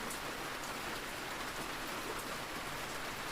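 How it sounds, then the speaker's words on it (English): Gentle rain tapping outdoors, a dense, even patter of countless drops on surfaces that holds steady and soft throughout, with no voices. "Outside, the rain resumes its gentle tap, unimpressed, unaltered."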